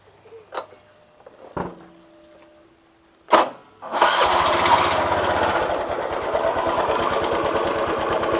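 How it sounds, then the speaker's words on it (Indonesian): A Honda Beat FI scooter with a knock in the front CVT: a few clicks and a starter whir, then the engine catches and runs at a steady close idle with a rough, rapid rhythmic knocking. "ada suara klotok ya pada bagian CVT bagian depan"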